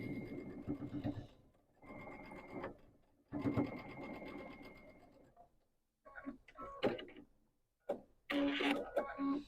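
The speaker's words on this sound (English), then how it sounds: "we are going to sew our 1/4 of an inch seam here" A sewing machine stitches a quarter-inch seam on quilt pieces, running in several short whirring bursts separated by brief pauses, close and clear.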